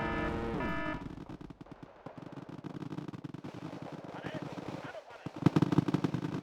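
Automatic fire from MX-13 units crackles in the real-time strategy game Wargame: Red Dragon, a long run of rapid, distant-sounding shots under ongoing battle noise, growing denser and louder toward the end.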